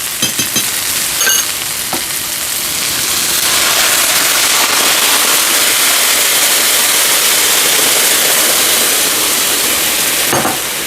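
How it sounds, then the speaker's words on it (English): Beef broth poured over cooked-down translucent onions in a pan boils hard, a loud, dense, continuous sizzling bubble that swells after a few opening clatters and keeps rolling to the end. "Look at it boil."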